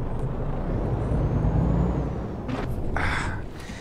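A truck in Euro Truck Simulator 2 rumbles along with a steady low engine drone, then releases two sharp hissing bursts of its air brakes near the end.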